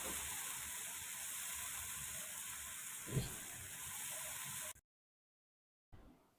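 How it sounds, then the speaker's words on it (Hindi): Two spoonfuls of garlic-ginger paste fry in a pan with a steady, close hiss and sizzle that runs for several seconds, cuts out briefly, then resumes. "2 चम्मच लहसुन अदरक का पेस्ट ऐड किया है। हल्का सा इसको हम फ्राई कर लेंगे"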